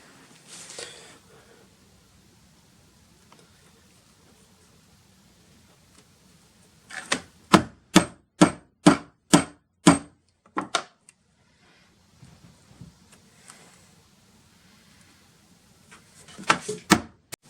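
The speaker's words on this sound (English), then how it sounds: "got all those holes punched out" A four-prong leather awl is struck again and again to punch stitching holes in leather for a knife sheath, a quick run of about nine sharp, evenly spaced knocks, then a couple of stray taps and a final cluster of hits, with no talking.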